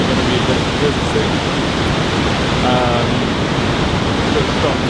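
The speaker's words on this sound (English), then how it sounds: "Just stopped off at this waterfall." Waterfall beside a bumpy mountain road on a trek in Nepal, a loud, steady broadband rush of falling water that fills the whole scene without a break.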